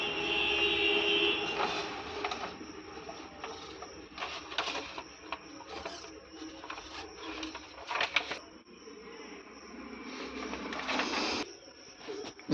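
A small motor drives a low-cost braille printer prototype, whirring and clattering unevenly with mechanical ticks and strained bursts, sounding close and fairly quiet and steady throughout.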